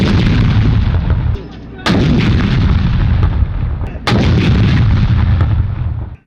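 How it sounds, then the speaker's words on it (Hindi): Artillery firing a 21-gun salute for a Pakistani national celebration, with heavy booming cannon shots separated by a few seconds, each followed by a long rolling echo, loud and close. "21 तोपों की सलामी से हुआ"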